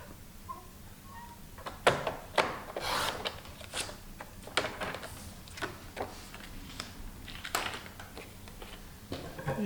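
Paper being cut along a traced edge for a Halloween party album, a series of short crisp snips and scraping rubs at close range, irregular and quiet, with no talking.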